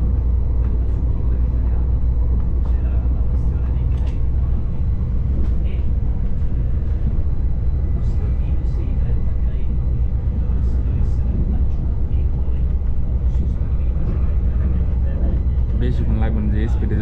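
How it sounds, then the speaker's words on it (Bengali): Inside a metro train running from Kuala Lumpur to Putrajaya: a continuous loud rumble and hum of the moving carriage, with someone talking over it throughout. "বেশিক্ষণ লাগবে না, যে স্পিডে যাচ্ছে ট্রেন"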